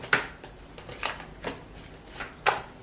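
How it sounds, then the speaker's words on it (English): Tarot cards shuffled by hand in small riffled bursts, five or six soft crisp flicks spaced about half a second apart, close and fairly quiet with no talking. "I'm just going to shuffle a little bit of it so you can see me shuffling"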